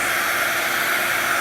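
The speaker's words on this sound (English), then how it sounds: "Back to the hairdryer." Hairdryer blowing on a Canon 5D camera's LCD glass screen to soften the adhesive, a steady close airy whoosh that cuts off abruptly at the end.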